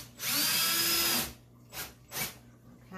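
A power drill drives an old rusted screw into wooden kitchen slats: one loud, steady whirring run of about a second, then two short quieter bursts as the screw seats, with no talk over it.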